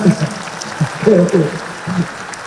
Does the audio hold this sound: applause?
yes